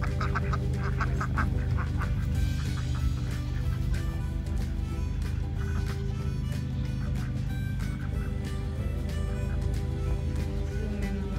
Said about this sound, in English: I was gonna try to catch the ducks quick.